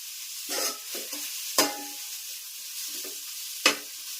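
Grated bottle gourd frying in a pan for kaddu kheer, with a soft steady sizzle broken by a few sharp scrapes of a stirring spoon, no talk.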